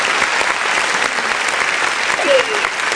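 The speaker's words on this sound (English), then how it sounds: "they were clapping up a storm before we got into it" A studio audience claps steadily as a talk show host is welcomed on stage, the applause loud and continuous throughout, with a voice faintly underneath.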